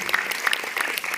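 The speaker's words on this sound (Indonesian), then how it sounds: "Boleh tepuk tangan dulu dong." An audience at a film press conference claps briefly, a dense, close burst of applause with no voices over it.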